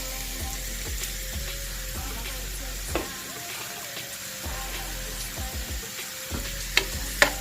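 Chopped onions salted and frying in a pan give a steady sizzle with regular scraping and stirring strokes and a few sharper knocks toward the end, without talk.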